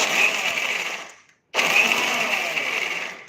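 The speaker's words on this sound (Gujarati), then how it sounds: "હવે આપણે ચાલુ બંધ કરી અને મિક્સરમાં આપણે પીસી લેશું" Mixer grinder pulsing while grinding farali patty ingredients with no water added: two loud whirring bursts, the first fading out, then a short silence before the motor restarts abruptly.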